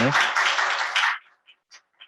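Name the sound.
audience applause after a presentation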